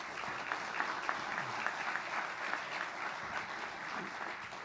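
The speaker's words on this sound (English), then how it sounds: "So if we could give him a round of applause." Audience at a manufacturing awards summit applauding a retiring long-time worker, a fairly distant, even roomful of clapping with a few louder claps standing out and no speech over it.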